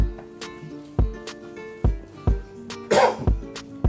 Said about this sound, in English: What making me cough? Black pepper.